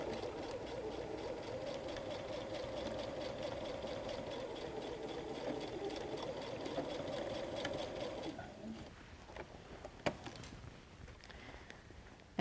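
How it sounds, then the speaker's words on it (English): A sewing machine runs steadily for about eight seconds, stitching forward and back across the seam of a messenger bag, then stops. A few faint handling clicks and taps follow in the quieter stretch. "I take a few stitches forward, a few stitches backwards, and then I sew across."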